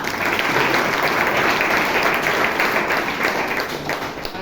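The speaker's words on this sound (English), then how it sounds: "Can you round of applause for them?" Loud, steady applause from a meeting audience at a Toastmasters club in Bangalore, dense clapping filling the room without a break.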